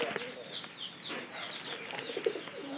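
Pigeons in a pigeon house coo softly and repeatedly at close range, with faint fluttering and clucking-like calls over steady background noise.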